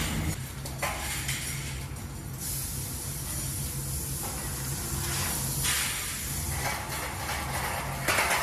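Spray equipment coating steel U-lock parts on racks in a factory, giving a continuous loud hiss that holds steady throughout with slight surges and dips in intensity, no voices.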